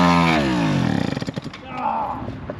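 An old scooter engine sputters and revs roughly right after its first start in years, loud and close, with a rising popping rhythm that settles into an uneven idle.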